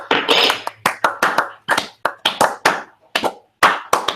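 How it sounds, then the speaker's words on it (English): A loud round of applause, sharp clapping in bursts that swell and pause several times, close up with no talking. "A round of applause."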